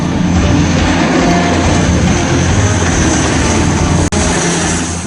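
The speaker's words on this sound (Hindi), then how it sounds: "लड़ाकू विमान भी गरज रहे हैं" Indian Air Force fighter jets on air patrol roar overhead with a loud, continuous engine rumble that stays strong throughout, broken by one momentary dropout.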